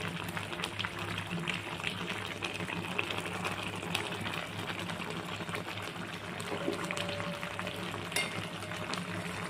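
Chicken kosha cooking in a pan: chicken pieces sauté with a soft, continuous sizzle and occasional stirring scrapes and clinks, fairly quiet, with no talking.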